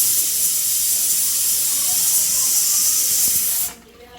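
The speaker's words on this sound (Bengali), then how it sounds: "এখন প্রেসার কুকারে ঢাকনা লাগা দিয়ে কয়টা শীষ" A pressure cooker full of chicken biryani lets off a loud, steady jet of hissing steam that cuts off abruptly near the end, leaving only quiet kitchen background, with no one talking.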